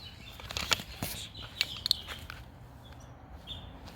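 A bird's wings flap outdoors in a residential neighborhood, a few quick, close fluttering bursts over soft background ambience, with no talking.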